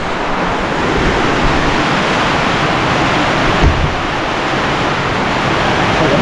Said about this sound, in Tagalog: ito yung unang ulan ng June